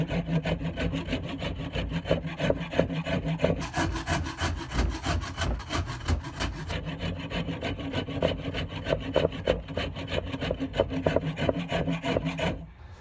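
A rasp and abrasive work steadily over a wooden axe handle, rounding and smoothing its angular back in a continuous, close, rhythmic scraping with no voices.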